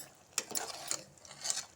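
Mutton and spice paste being sautéed in a pressure cooker: scraping and stirring with light sizzling, a few sharp clinks of a spoon against metal, fairly close and moderately quiet.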